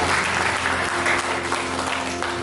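Applause from a church congregation during a sermon, a dense, steady wash of clapping hands that holds at full strength for the whole stretch, with a faint low hum underneath.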